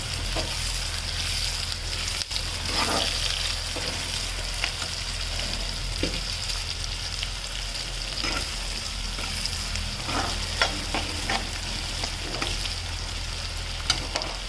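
Onions frying in oil in a pan for a spicy brinjal dish, a steady close hiss and crackle running continuously with occasional stirring scrapes and pops, no voices.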